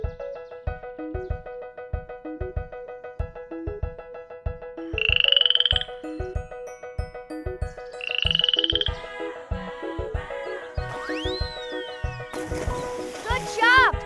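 Cartoon frog croaks in short bursts over a bouncy, rhythmic children's music track, with a few brief chirpy effects and a rising whistle-like tone mixed in; moderately loud and upfront.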